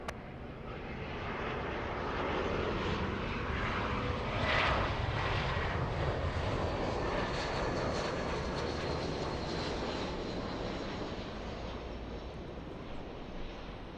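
Airliner rolling for takeoff on runway 24 left at LAX, a steady broad engine roar that swells and holds loud, then eases slightly as it pulls away.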